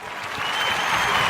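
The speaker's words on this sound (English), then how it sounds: "Give me a hand clap." Applause breaks out as a dense, steady wash of hand clapping that swells slightly over a brief moment.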